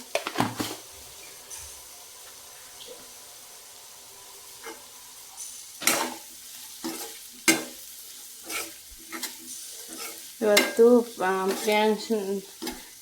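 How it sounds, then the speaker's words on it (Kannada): A beetroot stir-fry is in the pan after chili powder goes in, giving a soft steady sizzle beneath scattered stirring scrapes and spoon clinks that grow busier and louder toward the end. "ಇದು ನೋಡಿ ಖಾರ ಹಾಕ್ತಿದ್ದೀನಿ"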